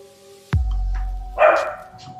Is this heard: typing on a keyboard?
no